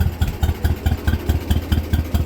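A 1956 John Deere 420 two-cylinder tractor engine idles very slowly nearby, a loud, evenly spaced chuff-chuff pulse of roughly four beats per second.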